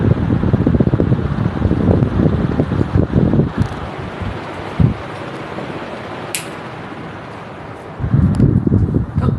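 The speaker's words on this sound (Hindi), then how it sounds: "इससे पंखा बंद होगा और किसी भी स्पीड से पंखा स्टार्ट हो जाएगा।" A GFC Aeromax AC/DC ceiling fan with a remote runs with a steady, airy whoosh and a low rumble that swells and eases, with no speech.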